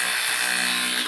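A DeWalt 18-inch band file grinds steadily along the edge of wooden decking, a continuous close abrasive buzz with no pauses and no voices.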